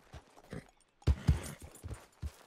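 Hooves clip-clop on the ground in irregular, fairly close thuds, a few soft ones at first and then louder, quicker strikes, with no talking.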